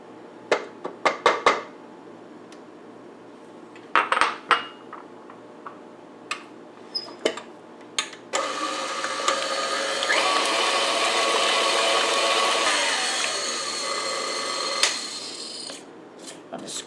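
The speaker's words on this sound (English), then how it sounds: "now we are going to add our pumpkin into the mix. And then we want to mix this in very well." An electric mixer beating pumpkin into bread batter, a steady whirring motor running for several seconds after a series of sharp knocks and taps against the bowl, close and loud, with no talking.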